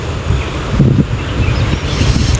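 Steady wind blowing across the microphone, a continuous low rumble and hiss with gentle gusts and faint rustling.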